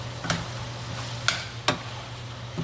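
Tomatoes stirred into a sizzling chicken, sausage and shrimp stir-fry, with a steady background sizzle broken by a few sharp scraping clatters of the utensil against the pan.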